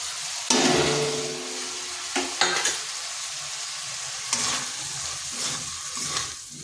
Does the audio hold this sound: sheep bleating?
no